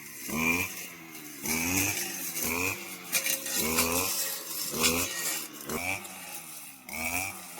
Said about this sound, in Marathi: त्या मशीननी बघा मोठं मोठं जे रानटी गवत उगवलंय ते पण कसं कट कटरनी कापलं जाते बघा